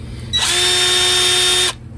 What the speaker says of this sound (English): The best thing I've found to use is a Phillips screwdriver bit on a drill.